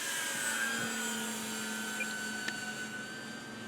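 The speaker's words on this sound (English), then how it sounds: "The plane right now is flying about half speed" Dynam PT-17 biplane RC model flying at about half speed, a faint steady motor drone with a thin whine holding evenly for several seconds, with no talking.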